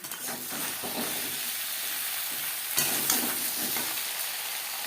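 Ridge gourd goes into a hot pan of potatoes and gets stirred over high to medium flame, giving a steady frying hiss with soft scraping strokes and a brief louder splash of sizzle partway through.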